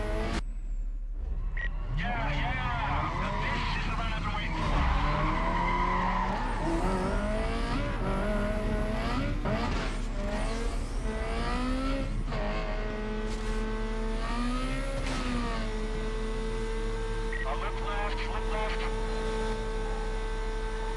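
Race cars in Need for Speed: Carbon, among them a Renault Clio and a Mazda RX-8, launch with rising engine whines and gear shifts, tires squealing and skidding over a steady electrical hum, with a voice talking over the game throughout.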